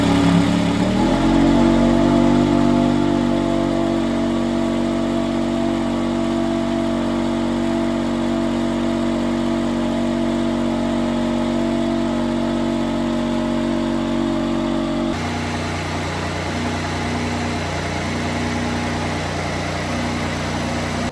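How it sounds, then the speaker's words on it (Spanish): Mercedes AMG One hypercar idling, a steady loud mechanical drone with a faint rise at the start and a shift in tone partway through, no talking. "escuchad cómo suena el coche al ralentí"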